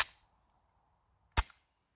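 An air rifle fires a pellet into a glass screen protector, producing two sharp, close cracks about a second and a half apart, with near silence between them.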